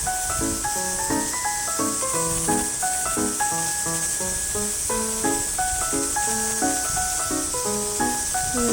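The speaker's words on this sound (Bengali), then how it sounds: "এখানে লুচিগুলো ভাজতে দিয়েছি" Luchi, puffed flatbread, deep-frying in hot oil make a continuous broad sizzling hiss, partly masked by louder melodic background music playing throughout.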